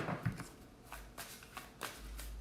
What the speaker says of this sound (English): I got a great shuffle going on.